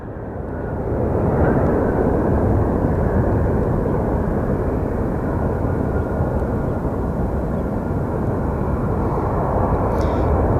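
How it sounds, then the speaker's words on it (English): A Spirit Airlines airplane at Sky Harbor Airport, a steady loud roaring engine rumble that swells in the first two seconds and then holds constant, heard alone. "This specific plane is Spirit Airlines"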